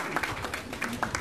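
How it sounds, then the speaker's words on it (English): Brief burst of crowd clapping for a woman celebrating her 100th birthday, a quick run of individual hand claps at moderate loudness, with a murmur of voices underneath. "Let us give her a round of applause"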